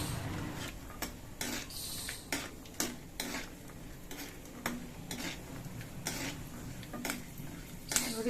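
Peanuts frying in a pan for makhana chivda are stirred with a utensil, giving regular close scraping clacks about once a second over a soft continuous sizzle.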